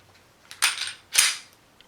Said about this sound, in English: another small con compared to the Glock 19, all right, is the trigger reset